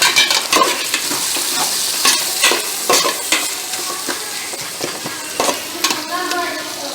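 Vegetables sautéing for vermicelli biryani, a loud close sizzle with repeated scraping and clacking strokes of a spoon stirring in the pan, with no speech.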